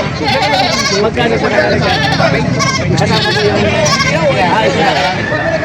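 Goats bleat repeatedly over a busy background of people talking, the calls overlapping and fairly close.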